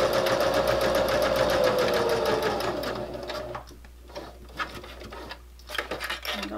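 Sewing machine stitching a fabric mouse wrist rest, a fast steady mechanical whir of the needle that runs loud for about three seconds, then stops, leaving light handling clicks and rustles.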